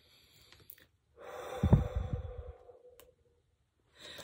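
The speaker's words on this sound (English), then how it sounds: "Take a deep breath in." A single deep inhale, a breathy rush that swells over about a second and a half and then fades, close to the microphone in a quiet room, followed by a brief exhale-like breath near the end.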